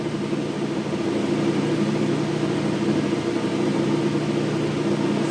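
A Hendey lathe runs at a set spindle speed, giving a steady mechanical drone with a low rhythmic hum and faint whine, constant throughout and heard alone without any speech.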